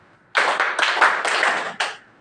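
A group claps together in a quick rhythmic pattern, a short burst of sharp, close handclaps that ends with a final separate clap, with no talking over it.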